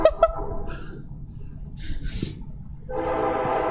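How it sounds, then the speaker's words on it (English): A passing train sounds its horn, with short loud blasts at the start, then a low rumble and the broad roar of rolling railcars building steadily, heard from a nearby driveway. "Boy, that train is."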